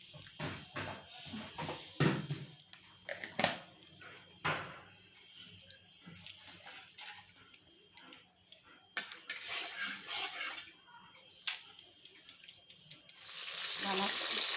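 Potatoes go into hot oil for a Bengali bata fish curry with aubergine and beans, giving a soft sizzle broken by sharp clinks and scrapes of a utensil against the pan, with a louder hiss building at the end.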